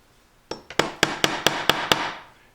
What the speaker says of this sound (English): and tap it with a hammer